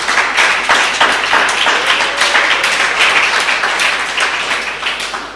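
Audience applause fills a hall at a debating competition, a dense, steady wash of many hands clapping at close range, sustained throughout without talk.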